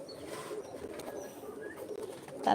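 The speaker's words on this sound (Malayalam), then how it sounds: "നല്ല ക്യൂട്ട് പ്രാവ്" A pigeon coos softly nearby, its low murmuring calls running over faint background noise in a home setting.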